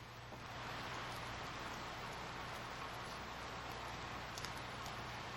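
Rain of the returning wet season falls on the Llanos plains, a steady dense hiss and patter that fades in and then holds evenly, with no voices.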